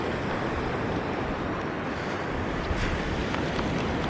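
Ocean surf breaks at a beach on a calm sunrise morning, giving a steady, wide wash of waves mixed with wind buffeting the microphone. No one speaks.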